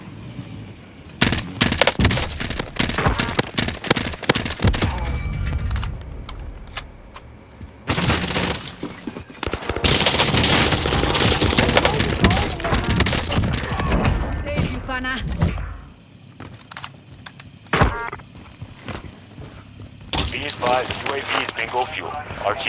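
Gunfire rattles through a Call of Duty: Modern Warfare match in dense, rapid bursts, loud and near at times, broken by short lulls while players talk excitedly over the shooting.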